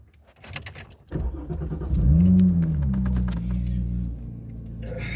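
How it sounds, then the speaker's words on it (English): A Porsche 997.2 engine cranks and catches after a few clicks, revving up briefly with a rising whine, then settling into a steady close idle. "So I'm going to start my car."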